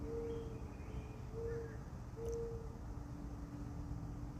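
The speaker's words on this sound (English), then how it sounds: "got the owls" Soft early-morning owl hoots, a few brief low calls spaced apart at a distance, over a quiet outdoor ambience with faint birds.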